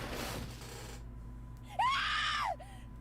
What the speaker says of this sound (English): That was a very good scream.